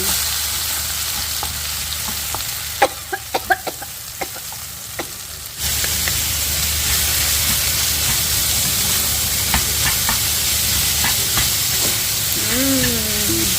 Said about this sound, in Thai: ก็เลยต้องทอดไข่ไก่ให้นางเออ